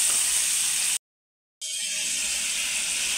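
A spice paste of coriander powder, turmeric, salt and a little sugar sizzles loudly in a pan. The bright hiss cuts out briefly in total silence, then resumes slightly softer.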